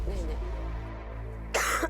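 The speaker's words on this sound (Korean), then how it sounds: "지금도 기침 계속 하시네요" A single rough cough or throat-clear bursts out near the end, close and sharp, after a stretch of quiet room tone.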